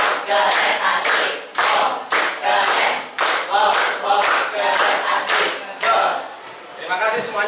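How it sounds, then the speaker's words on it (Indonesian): A group of participants performs a rhythmic clap chant together at the close of a mathematics class session, with bursts of synchronized clapping and shouted voices repeating in quick cycles, loud and close. "Kita tutup sama-sama dengan tepuk wow kerennya untuk terakhir kali"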